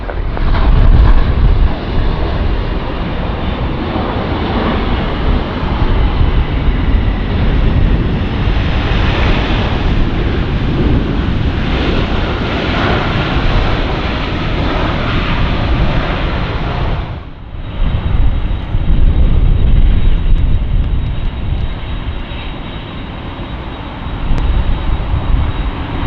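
A jet airliner lands at Los Angeles International Airport with a loud, sustained roar and rushing wind noise. The roar dips briefly near the end and then swells again, and no voices are heard.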